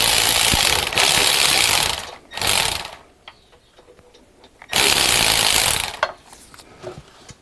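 Ratchet wrench loosening torque converter bolts on a Mercedes Sprinter during a transmission replacement: two loud bursts of rapid clicking, each lasting about two seconds, separated by quieter tool handling and light metallic taps, close to the microphone with no talk.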